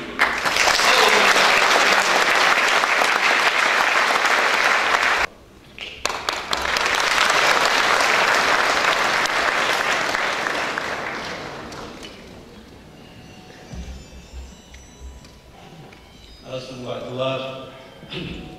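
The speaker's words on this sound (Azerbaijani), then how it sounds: "Hamımız ürəkdən alqışlayırıq." Loud, sustained audience applause fills a concert hall in Sumqayit at a festive music celebration, breaking briefly then swelling again before fading into scattered claps and murmurs.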